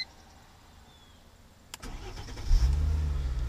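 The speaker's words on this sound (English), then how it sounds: "I've now just started the vehicle" A car fitted with a JR Industries NoKeyGo keyless start system cranks briefly and catches, then settles into a loud, close rumbling idle after a quiet stretch.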